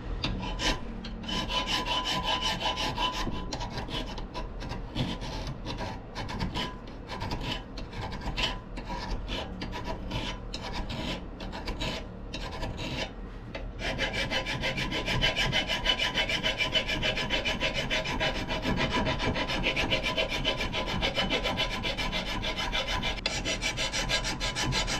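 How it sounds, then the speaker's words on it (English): A rasp files a wooden axe handle with rhythmic, scraping strokes that run together into a steadier, denser rasping in the second half. The sound is close and fairly loud, with no talking. "Obviously needs a little bit more filing."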